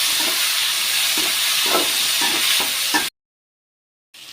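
Tomatoes sautéing in a pan for eggplant kuzhambu, a steady bright sizzle with a few soft stirring bumps, cutting off abruptly into a second of silence before the sizzle resumes.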